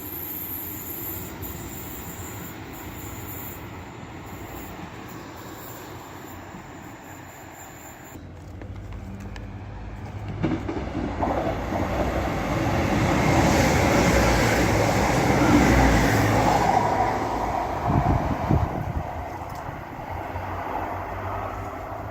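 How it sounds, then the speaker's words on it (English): A delayed Northern passenger service departing Castleton station, its engine and wheels rumbling up loud and close after a quieter start, with some wheel squeal as the train pulls away. "And now departing is the delayed 1324 Northern service to Clitheroe."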